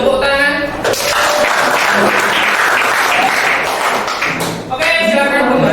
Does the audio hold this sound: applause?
yes